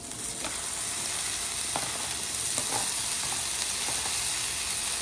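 Vegetables and onions frying in about a tablespoon of oil for coconut fried rice, a soft continuous sizzle and hiss with occasional light stirring clicks, close and fairly quiet, no talking.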